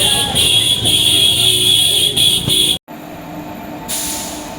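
The Ara–Kolkata Garib Rath Express rolls into Bakhtiyarpur station at night with a loud, steady rumble and high whine, then cuts off abruptly before a quieter hum returns.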